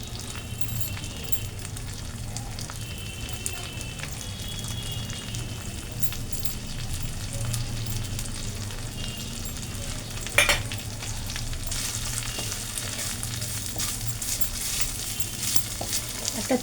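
Pumpkin and grated coconut frying in a pan, a constant close sizzle like light rain, with occasional soft stirring clicks and one sharp clink partway through.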